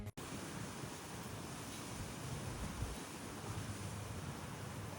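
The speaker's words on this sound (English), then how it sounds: "just hear how windy it is outside." Strong wind blows outdoors, a steady broadband roar buffeting the microphone, loud and continuous with small gusty swells and no voices.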